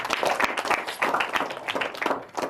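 An audience at an Indonesian seminar on disability law claps in dense, steady applause at moderate volume, filling the short stretch without speech.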